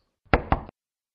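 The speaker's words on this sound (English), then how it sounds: "He knocked at the door." Two firm knocks on a wooden door, close and distinct, then silence, part of a fairy-tale scene at an old woman's house.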